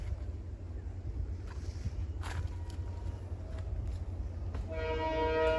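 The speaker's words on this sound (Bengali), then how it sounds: "ট্রেনের হর্ন, মনে হয় ট্রেন আসছে" Wind rumbles over an open platform at a rural railway station in Chuadanga, Bangladesh, then a distant train horn blares with a sustained tone near the end.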